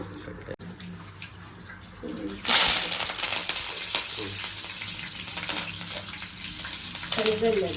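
Mustard seeds and chana dal fry in a hot pan, a soft sizzle that swells into louder crackling and popping once they go in, with faint stirring clinks and quiet background noise.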